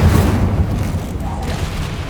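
A Confringo blasting spell goes off in Hogwarts Legacy, a loud, deep, sustained boom with rumbling low-end energy that holds steady across the whole moment.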